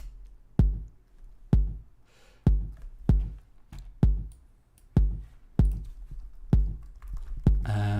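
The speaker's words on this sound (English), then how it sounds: "this is a Euclidean pattern for 3/8, so it's got 8 steps and it's put 3 events in there" A TidalCycles Euclidean rhythm places three percussive hits across eight steps, looping as sharp, evenly recurring clicks and thumps with quick decays, clear and alone with no talk over them.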